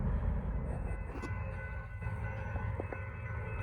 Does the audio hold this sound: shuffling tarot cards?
no